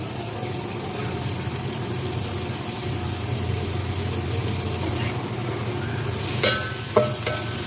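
Chopped carrots fry in about three tablespoons of oil over a medium flame for Afghani Kabuli pulao. A steady, close sizzle runs throughout, with a few clinking stirring knocks near the end.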